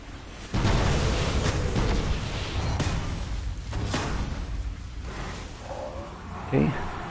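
A rocket launcher firing during a Destiny-style video game raid: a loud, sudden roaring blast followed by a long rumbling, explosive wash of noise and game sounds, with a short sharp burst near the end.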